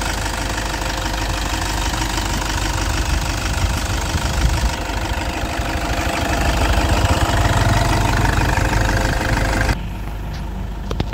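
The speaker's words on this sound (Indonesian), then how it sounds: "Mesin sangat renyah, titik-titiknya masih ada semua." A Toyota Innova V with the 2KD diesel engine and automatic gearbox, in dry, well-kept condition, idles close by. The rumble is steady, loud and rattly, with a slight drop in level near the end.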